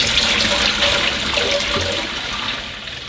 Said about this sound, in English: empty it down your loo. So here's all the dirty water.